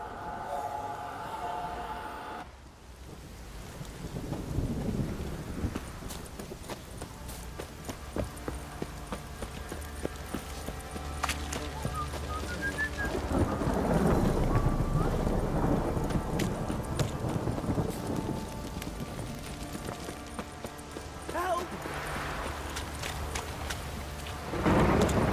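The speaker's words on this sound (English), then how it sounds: "This downpour's a bastard, it is." In The Witcher 3, a heavy downpour hisses continuously while thunder rolls and rumbles. Horse hooves clip-clop through the rain at intervals.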